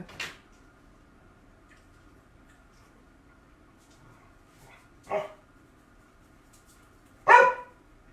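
A dog barks at a screen door, giving three separate sharp barks spaced a few seconds apart in an otherwise quiet indoor room, with the last bark the loudest.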